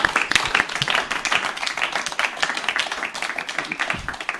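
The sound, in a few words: audience applause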